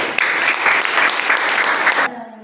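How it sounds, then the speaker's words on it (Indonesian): A teacher-training classroom group applauds together: dense, even clapping from many people for about two seconds, then a sudden stop into near quiet. "Ya, tepuk tangan."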